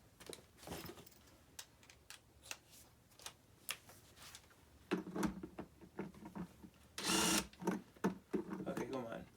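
A Phillips screwdriver turns screws into a Vacmaster Beast 5-gallon shop vacuum. Close, uneven clicks and scrapes come in bursts, with one louder rasping stretch.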